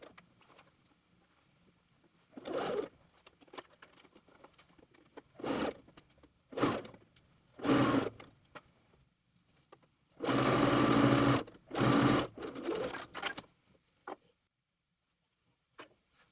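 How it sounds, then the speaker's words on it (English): A sewing machine stitching a dress seam down to the hem, running in short separated bursts with a longer steady run near the end, close and moderately loud between quiet pauses. "Then I get it into the machine, backstitch to start, again making sure you're not going over the dress seam, and then sew down to the hem."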